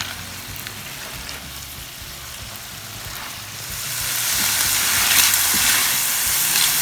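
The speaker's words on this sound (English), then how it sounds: "I will add 2 tablespoons of BELACHEAN SPICE, and then I will saute for another 2-3 minutes." Belacan spice paste sizzles in hot oil while being sautéed for Indonesian nasi goreng, a steady hissing fry that grows louder and brighter partway through.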